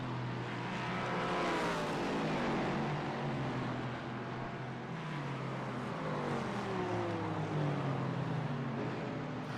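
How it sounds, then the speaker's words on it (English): Race car engine in a sim racing game at Watkins Glen, a steady loud drone with rising and falling pitch as it revs through the corners, with no talking. "there's the Aerokinetics machine of Beaver. Gonna go around the outside, through the outer loop"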